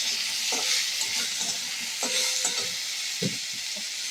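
Vegetable stalks and potatoes fry in a pan and are stirred, a steady close sizzle with a few scraping stirs at intervals.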